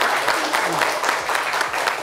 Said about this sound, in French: je vous demanderai de l'applaudir bien fort